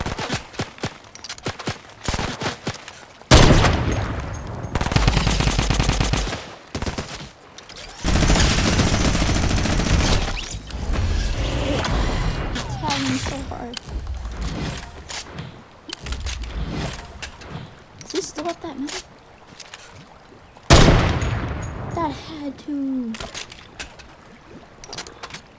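Gunfire in the video game Fortnite, loud sustained bursts of automatic fire and single shots in clusters, separated by quieter gaps with smaller clicks and effects.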